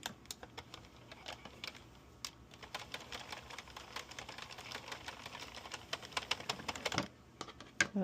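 Rapid mechanical clicking and clattering, quiet and close, as a knitting machine carriage slides back and forth knitting rows of waste yarn in bursts, ending with a brief pause.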